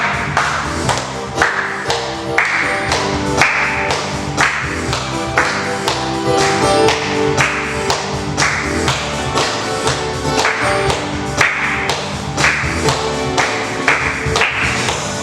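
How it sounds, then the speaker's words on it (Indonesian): A congregation at a children's church service claps along to a worship song, sharp rhythmic claps repeating steadily over loud music throughout. "Tepuk tangan semuanya"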